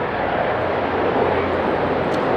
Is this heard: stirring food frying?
no